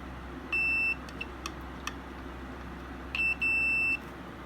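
A multimeter on continuity test beeps while probing moped ignition coil wires: two steady high-pitched tones, one short and one slightly longer, in a quiet workshop.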